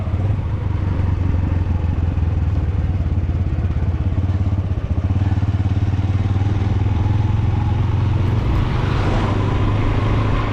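A motorbike riding on a mountain road toward the Lowari tunnel, its engine a steady, loud droning rumble close by, with wind and road noise running throughout.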